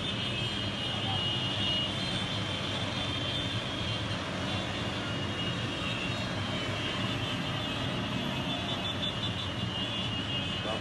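A long caravan of roughly 300 low-displacement motorcycles rolls past on a Colombian road, their small engines blending into one dense, steady drone that stays loud and even throughout with no break.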